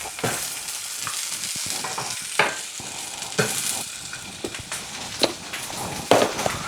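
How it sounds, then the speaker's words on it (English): Food sizzles and crackles in too much hot oil in a kitchen pan, with sharp pops and clatters of stirring breaking over a steady frying hiss, alone and close. "I had way too much oil in that, hot oil when I added that in"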